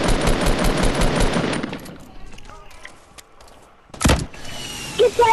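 Gunfire in a Fortnite squad match, a loud dense burst of rapid shots at the start that fades out, then sharp isolated bangs and clatter with excited players talking over it.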